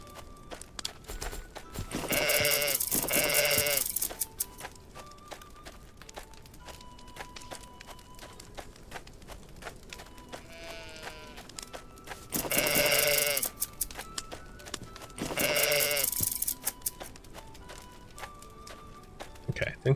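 Sheep in the medieval video game Cozy Keep let out three long, loud bleats spaced apart, over soft footsteps and quiet in-game background sounds.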